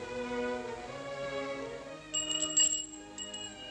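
A small bell is rung to summon a servant in a 1936 period film, giving a few bright, quick rings partway through, heard over soft orchestral music.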